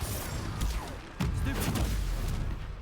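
Spells firing in the Hogwarts Legacy video game during a battle, a run of loud booming blasts and crackling impacts over a constant rumbling background, with a few sharp bursts close together.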